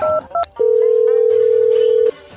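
Two quick keypad beeps of a phone being dialed, followed by a long steady tone that cuts off, then quiet.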